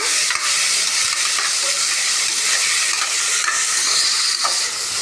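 Chopped tomatoes tipped into hot spice powder and sautéing in a pan for vegetable rice, a loud, dense hiss of frying with a few sharp spatula clicks, close and continuous without speech.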